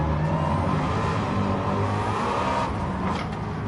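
A car engine in the video game Gran Turismo 7 drones loudly and steadily at a constant roar, as if cruising under load, with a slight change in pitch near the end.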